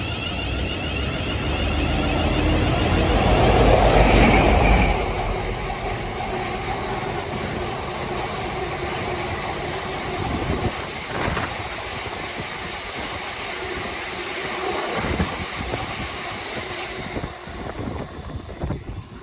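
A freight train passes nearby with a loud, heavy rumble that builds over the first few seconds. The rolling noise continues steadily with faint clicks from the wheels as the train moves on.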